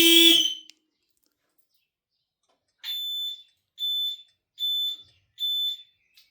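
Vodafone Automotive 4822 canopy alarm siren on a Mazda BT50 canopy: a brief clunk, a pause, then four loud, shrill, evenly spaced chirping bursts.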